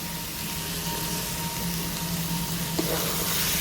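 Boiled kidney beans drop into sizzling spices in a pan for a rajma masala, giving a steady, close frying hiss with a brief soft thud of the beans landing near the end.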